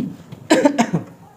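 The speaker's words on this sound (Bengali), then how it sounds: "কাশির শব্দ পাইলাম" A person in an office coughs in a quick burst of two or three rough, close coughs that fade out within about a second.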